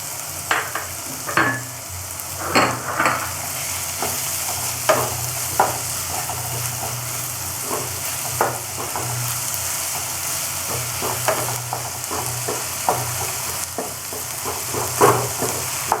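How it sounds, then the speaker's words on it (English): Onion paste frying in a pan, a steady close sizzle with repeated scraping stirs at irregular intervals, no talking. "Now I will add 1 tablespoon onion paste"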